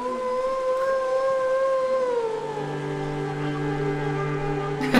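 A long, loud wolf-like howl from a creature in the game Fe, a sustained tonal cry that slides downward and then holds steady as a layered drone, alone and close.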